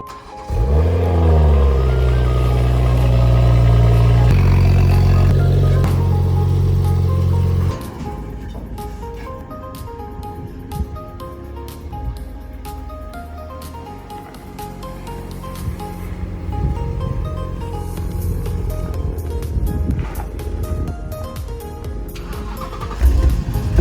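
A Toyota Supra's engine starts with a loud revving surge, then settles into a steady rumbling idle as the car is unloaded from a trailer, with faint voices nearby.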